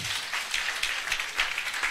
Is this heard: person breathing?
no